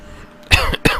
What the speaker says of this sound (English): I've had a bit of a cough last week